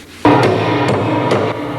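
A hammer strikes during piano restoration in a New York piano shop, landing three sharp blows spaced unevenly over a ringing workshop background, close and loud.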